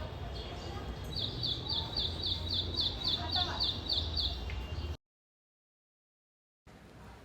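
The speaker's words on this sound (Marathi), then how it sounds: "तो हाच पक्षी आहे छोटासा आहे मात्र आवाज खूप मोठा आहे त्याचा" A small bird repeats a loud, sharp high-pitched call about a dozen times in quick succession over background noise, followed by a pause.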